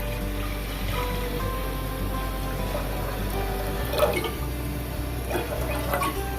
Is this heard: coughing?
no